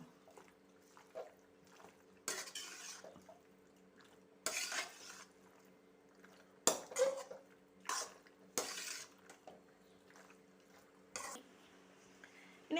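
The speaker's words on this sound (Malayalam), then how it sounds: "ഇതൊന്ന് നല്ലപോലെ മിക്സ് ചെയ്ത് കൊടുക്കണം" Fresh cream being mixed into pasta in a pan, with a series of short scraping stirs against the pan spaced irregularly over the clip and quiet pauses between them.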